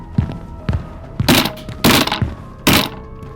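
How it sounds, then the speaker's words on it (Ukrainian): A door being broken down as a horror story sound effect: several heavy thuds and splintering crashes, loud and close, arriving in uneven blows with brief pauses between them. "Я чую, як ламаються двері."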